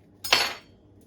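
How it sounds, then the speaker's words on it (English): A knife cuts through a red onion in a single quick, close stroke, a short crisp slicing swish that fades within half a second in a quiet kitchen. "And I'm going to cut this red onion."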